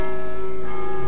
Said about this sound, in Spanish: campanas